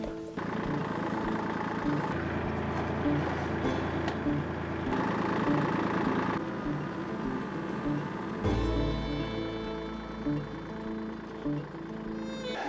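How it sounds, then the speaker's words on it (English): A tractor engine runs steadily close by, a low heavy drone with shifting load while pulling a pole barn door on a ratchet strap, with a deeper surge near the end. "I'm gonna put a ratchet strap right here and see if we can move this thing with a tractor."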